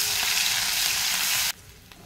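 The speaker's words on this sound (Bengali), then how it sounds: "রসুন লাল লাল করে ভাজা হয়ে গেছে" Garlic paste fries in hot oil with cumin seeds, bay leaf and dried chilli, a loud, even sizzle that drops abruptly to a quiet hiss.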